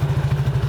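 A rented motorcycle idling on the island of Java, a brief close burst of low, evenly pulsing engine putter with a slight mechanical clatter on top.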